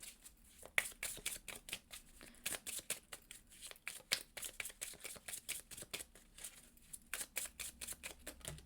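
A deck of tarot cards is shuffled close to the microphone, giving quiet, rapid riffling bursts in an uneven rhythm with brief pauses between them.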